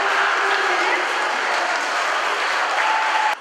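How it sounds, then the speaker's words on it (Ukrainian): Spectators at a swimming tournament for athletes with physical disabilities break into sustained applause, a loud and even wash of clapping that fills the whole stretch and cuts off abruptly at the end. "Як винагорода – оплески присутніх."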